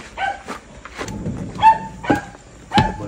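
A dog barks in several short, sharp yips, a few loud bursts spaced over a couple of seconds, close by in a home setting.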